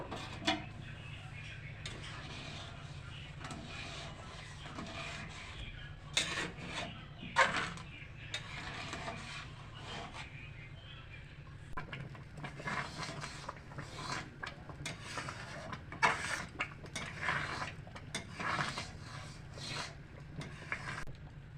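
Rice payesh with sugar being stirred in a pot makes repeated scraping and rubbing strokes of the spoon against the pot, moderately quiet and irregular, with occasional louder knocks.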